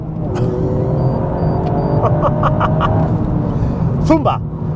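Toyota GR Yaris overtaking in second gear near 90 km/h, its engine note rising loud and continuous under the driver's talk, with a few sharp exclamations toward the end.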